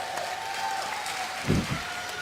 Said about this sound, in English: give a cheer for your 2 players, Naniwa and SixJax